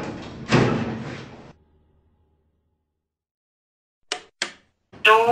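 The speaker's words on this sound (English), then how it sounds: "Doors closing." Doors of an Ultima lift with Lester controls, a modernised older installation, sliding shut with a brief rush of movement, then silence and a few sharp clunks or taps before the next sound starts.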